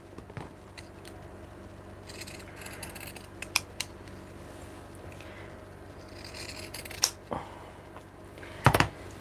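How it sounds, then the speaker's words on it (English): Pinking shears trim excess fabric from a small sewn coin purse, producing a few faint, scattered close snips over a low background hum, with a louder clatter near the end. "I just get my pinking shears to make it nice and easy, and I just snip all that excess off without going into my stitches"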